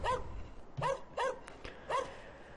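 Several dogs barking in a kennel in the Landwirtschafts-Simulator 13 farming game, giving four or five sharp, fairly close barks in an uneven rhythm with brief gaps between them.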